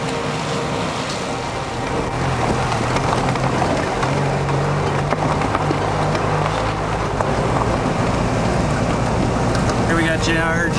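Steady rain patters over a wide outdoor space on a wet afternoon at Zopu Lake, a continuous dense hiss with low rumbling underneath that stays even throughout.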